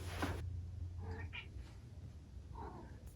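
A house cat gives a few short meows, soft and somewhat distant, over a low background rumble, with a brief thud near the start.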